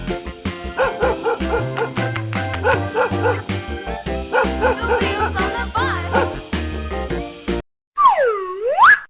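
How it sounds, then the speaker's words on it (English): Dog barks and yips amid loud playful music, a few short bow-wow sounds standing out, with a clear isolated bark after a brief gap at the end. "Dog."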